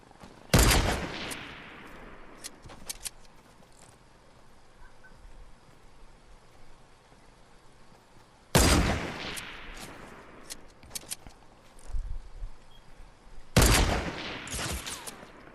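Three loud bursts of rapid gunfire in Fortnite, several seconds apart, each a sharp crackling volley that fades quickly into a quiet background.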